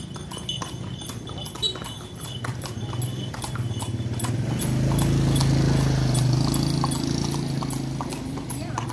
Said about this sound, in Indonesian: Di sini teman-teman bisa menikmati sambil naik kuda.